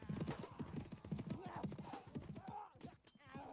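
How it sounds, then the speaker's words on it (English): A group of horses gallops in the video game Mount and Blade Warband, with rapid rhythmic hoof clip-clops throughout and a brief whinny near the end. "I got my my crew all on horseback."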